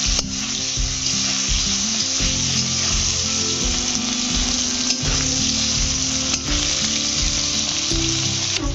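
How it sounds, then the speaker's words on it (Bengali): Boiled potatoes fry in a pan with a loud, steady sizzle that runs throughout, and scraping stirs knock at the pan now and then. "এবার আলুগুলো ভেজে নেব"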